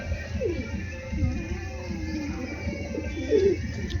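A restless pigeon with clipped wings, called an Andhra pigeon, coos close by in low, rolling phrases that repeat over steady background noise.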